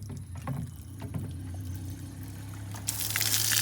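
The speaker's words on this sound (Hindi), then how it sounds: "अभी तो मैं पानी भरने आ गया था एकदम ही" Water runs and splashes into a container outdoors on a rainy day, a steady trickling wash that grows louder and brighter toward the end, with no talking over it.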